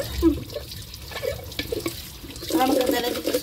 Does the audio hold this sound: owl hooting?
no